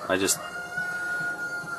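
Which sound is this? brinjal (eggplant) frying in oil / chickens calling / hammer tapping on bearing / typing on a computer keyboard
chickens calling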